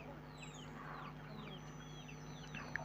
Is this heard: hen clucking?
yes